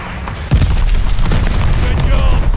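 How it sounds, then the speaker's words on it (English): A heavy boom from a friendly bombing run in the Call of Duty Vanguard team deathmatch on the Dome map, a sudden loud blast followed by sustained rumbling explosions and game noise. "Friendly bombing run inbound."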